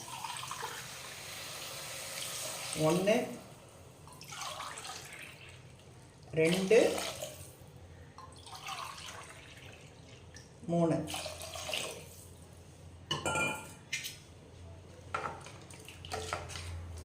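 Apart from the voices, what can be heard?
water poured into cooking pot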